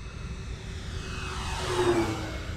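An FMS F7F Tigercat RC model airplane makes a low pass at Jax RC, its engine noise building from a distant drone to a louder, nearer whoosh near the end.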